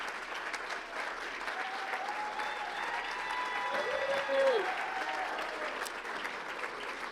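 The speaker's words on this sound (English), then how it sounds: "I just asked them to give you a round of applause" Sustained applause from an audience at a chamber of commerce awards gala, steady clapping for several seconds with a brief swell near the end and a voice briefly heard over it.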